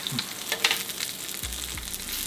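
Bacon and jalapeños frying in a pan, a steady close sizzle with a few soft stirring clatters and scrapes, no voices.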